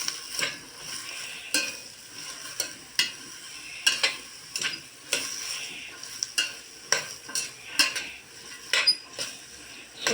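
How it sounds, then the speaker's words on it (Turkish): Onions sizzle in a pan while a utensil scrapes and clacks against it in repeated stirring strokes, a steady frying hiss beneath the sharp, close metallic knocks. "Soğanlar biraz kavrulsun."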